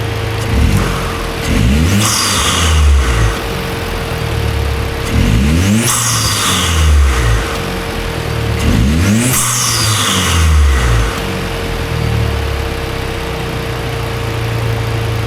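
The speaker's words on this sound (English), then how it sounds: "Set it up in the back so you guys can hear the exhaust" A 2017 Malibu engine with a cold air intake and a raw, muffler-deleted exhaust revs hard three times at regular intervals, each blip roaring up then dropping back to a rough, loud idle.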